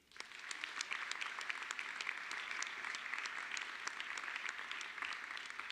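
Steady, dense applause from an audience at a Rutgers RWJMS medical school white coat ceremony, with a fast start that then holds even and full for several seconds.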